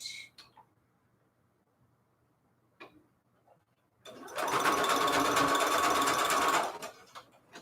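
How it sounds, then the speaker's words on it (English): Lace pieces are joined on a sewing machine, a few faint clicks and handling taps, then one close, steady whirring stitching run lasting about two and a half seconds before it stops. "wherever I see lace that's coming apart like this, I go ahead and sew that together"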